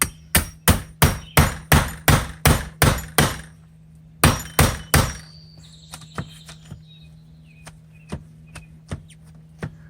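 A rapid series of hard hammer blows knocking off a rotted wooden window sill, about a dozen strikes, then a pause, a few more, and scattered lighter knocks and clatter.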